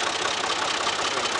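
A small tractor engine idles close by in rainy weather, with a steady, even running sound and no talk.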